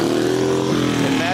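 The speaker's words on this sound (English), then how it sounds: "These motorcycles loudly revving their engines going past us." Motorcycles in the 2024 Lander Pioneer Days parade rev loudly as they pass nearby, making a thick, continuous engine roar with a rising, wavering pitch.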